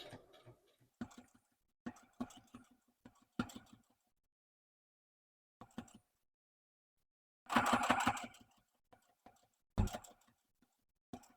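A sewing machine runs at its slowest setting while stitching a fire blanket, making short bursts of ticking stitches separated by pauses, with one longer, louder run near the end.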